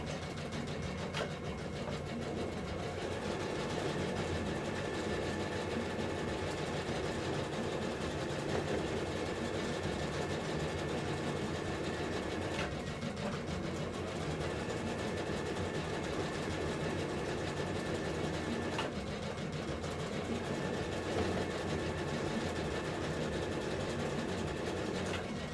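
A sewing machine runs steadily for about 25 seconds, putting in a zigzag reinforcement stitch on the waistband of a jacket, with a continuous mechanical whir and brief pauses near the 13 and 19 second marks.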